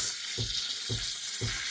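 Steam wand of a Breville espresso machine frothing milk, a steady close hiss with a rhythmic, paper-tearing texture pulsing about three times.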